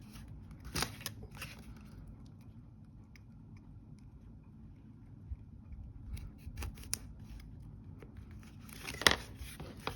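Paper being cut with scissors while making a ribbon-bound booklet: a few quiet, crisp snips spaced apart, close by and fairly soft, with no talking.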